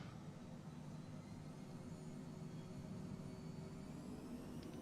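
Twin jet engines of a Phenom 100 in Flight Simulator 2020 spool up to takeoff power, a steady, dense roar with a low rumble and faint high whine, constant and unbroken throughout without any voices.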